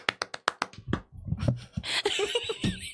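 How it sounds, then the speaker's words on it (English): Hands clap sharply about six times in a quick, even burst near the start, then loose laughter and lively chatter take over from several people, with a few softer claps mixed in. "Sorry, I was busy clapping."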